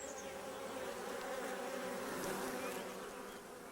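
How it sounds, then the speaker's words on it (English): Honey bees inside a hive, a dense, continuous buzzing hum of many insects, close and steady, rising slightly in the middle before easing off. "The foragers bring up the nectar from their stomachs into their mouths. Household bees then suck it out."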